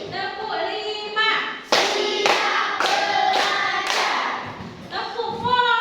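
Hands clap a counted rhythm in a classroom, about five sharp, evenly spaced claps ringing out over a background of children's voices and singing.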